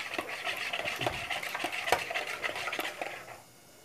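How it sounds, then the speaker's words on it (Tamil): Eggs whisked briskly in a bowl, a fast run of light clinks and taps against the rim for about three seconds, close and fairly steady, then stopping abruptly near the end. "முட்டையை வந்து நல்லா அடிக்கலாம்."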